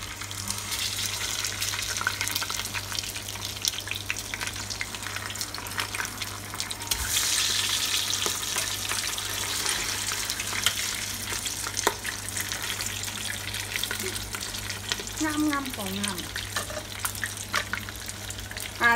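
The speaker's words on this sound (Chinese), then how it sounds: "煎緊啊" Fish frying in oil in a covered pot, a steady close sizzle and crackle that runs throughout, with a brief lid clatter midway and a short spoken murmur near the end.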